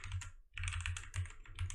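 Rapid clattering keystrokes on a computer keyboard during coding, close and clear, with a brief pause before the typing resumes in quick bursts.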